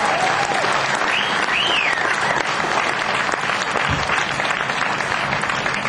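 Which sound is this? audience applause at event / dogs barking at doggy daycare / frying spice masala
audience applause at event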